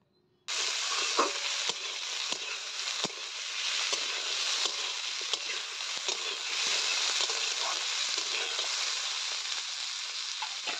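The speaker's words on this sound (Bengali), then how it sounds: "তো এই আলুগুলো এখন এই পেঁয়াজের সঙ্গে ভালো করে ভেজে নেব।" Sliced potatoes frying with onions in a pan for a Bengali data chocchori, a steady close sizzle with occasional stirring clicks, running continuously after a brief quiet start.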